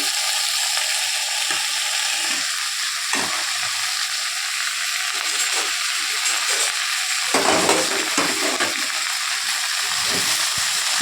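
Okra curry ingredients fry in hot oil, a loud, steady sizzling hiss with occasional stirring scrapes and bubbling bursts throughout, close up and without talk.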